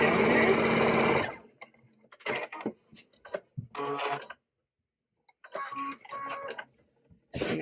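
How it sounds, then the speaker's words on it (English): A sewing machine runs a short, fast stitching burst while sewing down pleats on a fabric mask, then stops, leaving sparse light clicks and fabric handling. "then I just sew down there"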